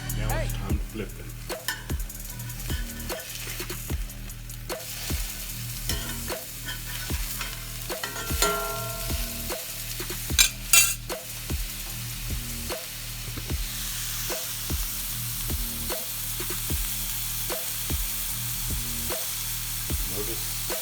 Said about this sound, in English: Now it's time to flip them.